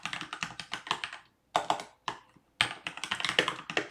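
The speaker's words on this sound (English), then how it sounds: "New mechanical keyboard, guys. Having trouble with it." Fast bursts of clacky keystrokes on a new mechanical keyboard, close and crisp, broken by short pauses between runs of typing.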